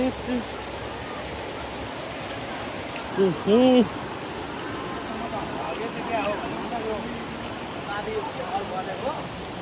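A jungle stream rushes steadily with broad, hissing water noise that continues throughout, while voices talk briefly over it.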